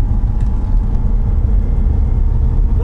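A Lada Niva accelerates along a snowy road, its engine giving a loud, continuous low drone and rumble with no break, heard close from inside the car.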